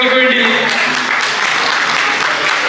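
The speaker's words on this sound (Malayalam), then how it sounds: "ഒന്ന് കൈയടിച്ച് നമ്മുടെ കുഞ്ഞുമക്കൾക്ക് വേണ്ടി" An audience claps for the children at an Onam celebration held by a Kerala association, a dense burst of applause with a voice over it at the start.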